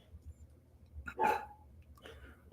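A dog gives a couple of short, soft barks or yips, quiet and somewhat distant against a low background hum, with brief pauses between them.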